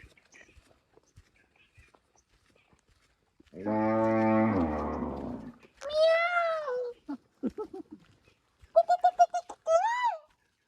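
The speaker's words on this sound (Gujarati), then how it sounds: "નાની નાની ચકલીઓ, મોર, ગાય, અવાજ એકદમ સૌંદર્ય કુદરતી વાતાવરણ જેવું જ છે." Outdoors, a long low cow moo is followed by loud wailing peacock calls, then quick chirps from sparrows, with quiet gaps between.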